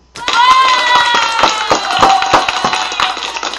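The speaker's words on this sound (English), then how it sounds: "we can take a round of applause for that" A round of applause during a live networking show, a few hands clapping in uneven, fairly close bursts with a sustained tonal background underneath.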